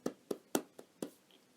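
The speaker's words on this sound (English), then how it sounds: "Golf clap. Yes, I'll take a golf clap." A few people give a sparse, quiet golf clap, about five separate soft claps spaced unevenly in a near-silent room.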